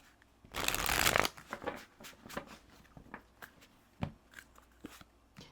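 Tarot cards being shuffled and one pulled from the deck, a loud burst of riffling followed by a string of soft, scattered taps and card snaps, close up with no voices.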